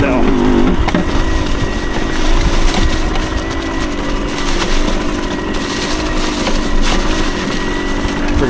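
A 1975 Suzuki TS125 Duster motorcycle idling with a loose fuel tank missing its front fastener, the small two-stroke engine chugging steadily and loudly up close, with a rattling, banging buzz riding on the idle.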